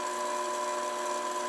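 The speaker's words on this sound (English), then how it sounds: "I'm going to drill my knob shape, just like I did before." A steady, high-pitched whine from a tool drilling a knob shape into a pottery lid holds constant and close throughout, with no talking.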